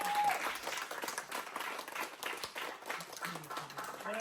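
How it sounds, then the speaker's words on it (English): Participants of an online As You Like It theatre production applaud themselves, a fairly quiet, steady smattering of clapping with slight rises and dips, a few scattered voices faintly underneath. "You all give yourselves a round of applause."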